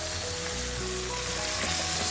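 Chicken browns in a pot for a one-pot chicken tikka biryani, giving off a constant close sizzle with no voices over it.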